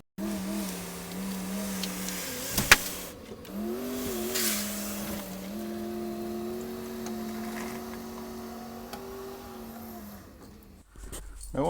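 A 1999 Chevy being towed out with a locked-up tire and no power steering, giving a steady low engine drone with harmonic tones and a brief sharp clank near the middle, continuous throughout.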